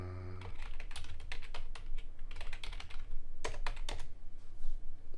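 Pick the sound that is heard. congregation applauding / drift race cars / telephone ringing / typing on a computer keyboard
typing on a computer keyboard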